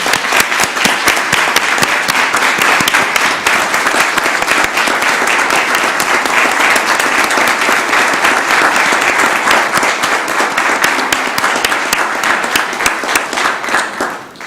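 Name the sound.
audience applause at city council meeting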